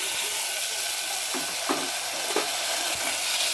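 Tadka lentils hit hot mustard oil in a pan, giving a loud, continuous close-up sizzle with a few soft stirring clicks and scrapes.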